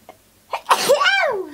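One loud, abrupt sneeze bursts out close to the listener after a brief quiet intake of breath.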